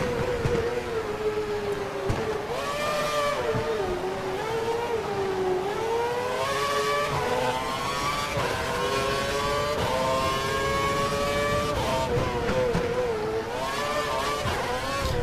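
Simulated Formula 1 race car engine lapping the Montreal circuit in the F1 2012 video game, a loud continuous high-pitched whine rising and falling with gear changes throughout.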